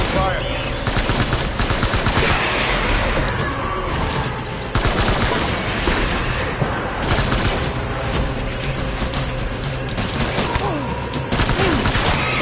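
Sustained gunfire in the video game Death Stranding, dense overlapping shots and bursts like a firefight, loud and continuous across the whole stretch with faint voices in the mix.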